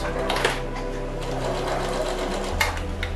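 A domestic sewing machine with a standard presser foot stitches a seam on a fabric bowl holder, a fast, even mechanical whir. Someone talks over it and the motor tone shifts near the end.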